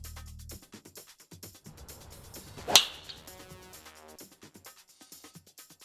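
A TaylorMade R11s driver strikes a golf ball once, a sharp explosive crack off the club face standing out near mid-clip amid faint background noise, with quiet ambient sounds before and after.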